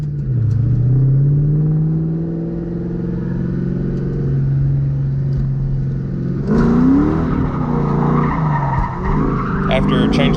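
A Ford Mustang driven hard in a drifting attempt, engine droning and rising as tires squeal and skid in long sliding wails, then a louder burst of revving and scrabbling tire noise near the end.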